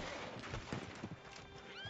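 Horse hooves clip-clop at a steady pace with repeated neighing in Red Dead Redemption 2, faint and distant, over a continuous game background.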